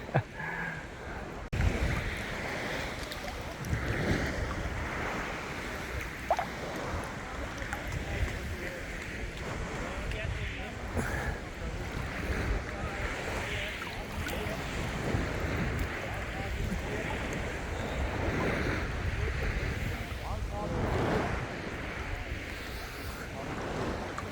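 Waves washing onto Olympos beach near Antalya, with soft surf and wind buffeting the microphone at a moderate, steady level; a voice speaks briefly in the background.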